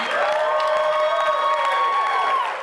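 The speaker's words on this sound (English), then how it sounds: "so big round of applause for them" Wedding reception guests cheer and whoop loudly, with applause mixed into a dense, sustained burst of crowd noise.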